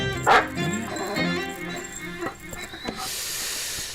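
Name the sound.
dog barking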